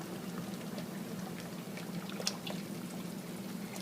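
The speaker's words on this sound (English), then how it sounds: "Now what we're going to do is put in our quart of the fat-free half and half." Fat-free half and half pours into a pot of Zuppa Toscana soup, a soft, low-level liquid trickle and splash running steadily throughout with no voices.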